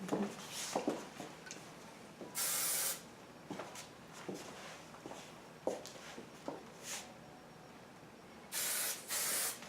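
Hairspray hisses onto hair in short bursts, two longer sprays near the start and a double spray near the end, close and fairly loud, with soft rustling and handling noises in between.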